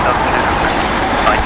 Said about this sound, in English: Wow, a 777 freighter going long.